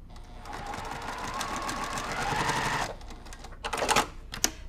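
A sewing machine stitches a quilt block seam with a fast, even whirring rattle for several seconds. It then stops, and a few short bursts of stitching follow, close and clear.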